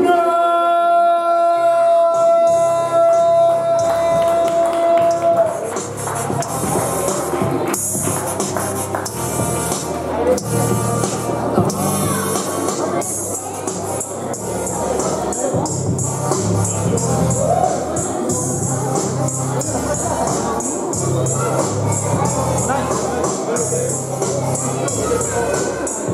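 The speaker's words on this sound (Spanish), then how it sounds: "quiero que den un fuerte amor y aplauso para mi amigo Jutsu y Kunai" A dense, loud crowd roar of applause and cheering for wrestlers at a wrestling event, sustained throughout with a brief tone early on and shifting bursts of noise.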